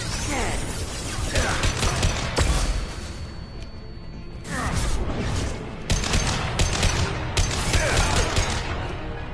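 Gunfire in the video game Mass Effect Legendary Edition: repeated bursts of weapon fire, crashes and whooshing impacts spread over several seconds, loud and close, with pauses between volleys.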